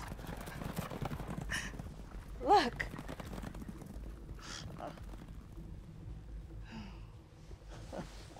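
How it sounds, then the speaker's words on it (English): Horses' hooves clip-clop steadily on hard ground at moderate distance, with a snort or whinny near the middle and people talking over the rhythm. "Horses."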